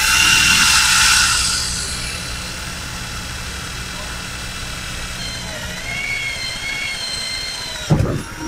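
A power drill bores a hole in a 2006 Toyota Hilux, whining loudly at first and then trailing off into a quieter hum, with a sharp knock near the end.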